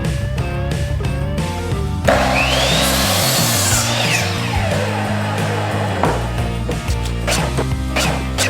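Wood pieces for a window box planter are cut with a power saw, a loud continuous buzzing whine that shifts in pitch as the blade bites through the board, close and alone.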